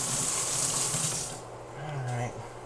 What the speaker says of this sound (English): I'm going to wash the spoon again